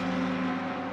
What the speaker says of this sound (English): the downshifts of that Audi absolutely amazing